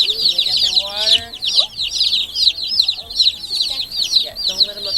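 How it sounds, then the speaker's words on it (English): A brooder of young meat chicks peeps constantly, a dense chorus of high, rapid chirps close by, with a few low murmurs of voices underneath. "Alright, 25 meat birds."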